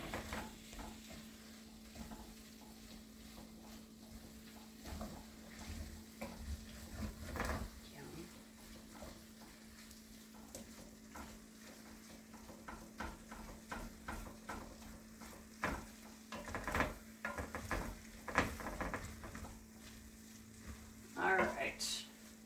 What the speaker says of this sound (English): We're just gonna get this all kind of stirred through and heated with our orzo and our zucchini.